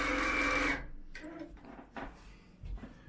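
A sewing machine runs in manual mode for under a second to spread oil, a quick steady whir, then stops, followed by soft clicks and handling noises nearby.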